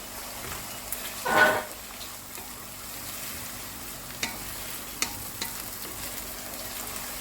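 Tomatoes frying with onion, garlic and ginger in a pan while making aloo methi, a quiet steady sizzle with a brief louder burst of stirring early on and a few soft clicks after.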